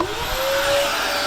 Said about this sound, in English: We're just plugging in the vacuum.